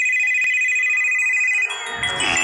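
A phone ringtone chimes with a bright electronic tone, followed by a burst of busier musical ringing near the end.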